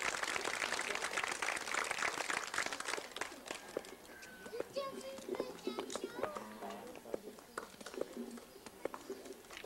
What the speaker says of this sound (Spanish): Démosle un fuerte aplauso a estos niños